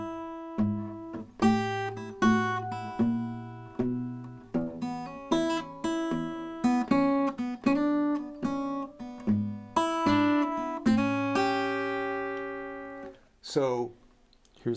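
Fingerstyle blues on acoustic guitar, a plucked walking bass line with treble licks on top, notes ringing clearly and close with no talk, ending on a brief strum.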